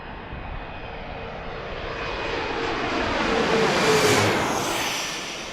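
A United Express airliner arriving at Washington's Reagan National Airport roars overhead in a broad engine rumble, swelling to a peak and then easing off as it passes close by.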